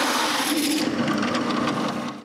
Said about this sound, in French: Je remets la scie en place et finis le trou.